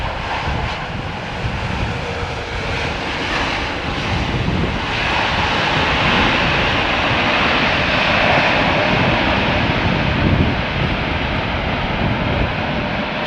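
Aircraft engine roar from a fixed-wing plane passing over London Heathrow Airport, a steady broadband rumble that swells gradually and holds loud throughout, with some wind buffeting the microphone and no talk.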